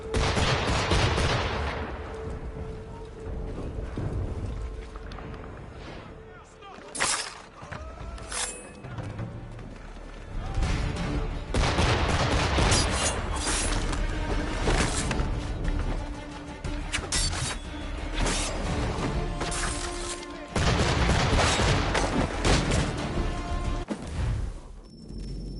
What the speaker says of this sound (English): I must say the cannon firing is kind of good